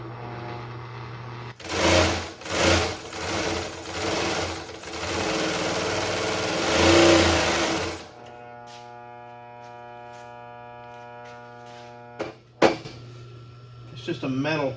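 A Ford Model A engine cranks in uneven, chugging bursts, then settles into a steady, humming idle, with a couple of sharp metallic knocks near the end. Voices talk over parts of it.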